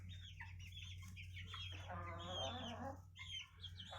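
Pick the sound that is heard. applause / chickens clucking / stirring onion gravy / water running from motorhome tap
chickens clucking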